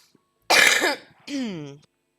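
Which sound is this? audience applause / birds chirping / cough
cough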